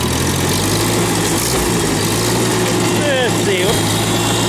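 A Farmall Super C tractor engine runs steadily after a touch of choke, a low, throbbing idle close by, with someone speaking briefly over it.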